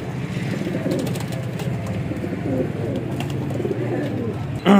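Golden Kabootar pigeons coo in soft, repeated, throaty rolls close by, with faint background chatter from people and a brief sharp noise at the end.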